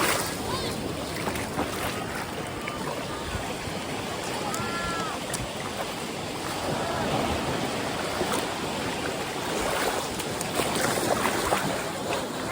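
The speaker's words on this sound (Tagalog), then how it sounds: "Malakas yung alon." Loud, continuous wash of rough water and surf with wind buffeting, splashes breaking through, and faint voices mixed under the roar.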